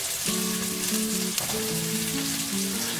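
Onions cut into chunky pieces fry in a crowded pan for fried rice, giving a steady, close hiss and crackle with no voices, under a faint continuous tonal hum.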